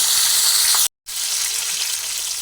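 Fish frying in oil gives a steady, loud, close sizzle that drops out briefly for a split second, then resumes at full strength.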